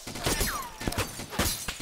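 Gunfire in the video game DayZ Epoch, several scattered shots at moderate distance cracking through a quiet background, with no voices.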